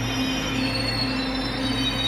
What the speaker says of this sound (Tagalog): So ito na ang aming train.